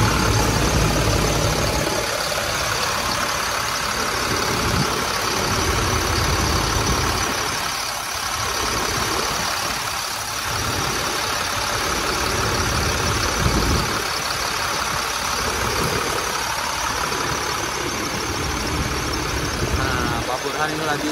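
Truck diesel engine idling steadily just after being started, a constant loud rumble with a faint knocking undertone, while people talk over it.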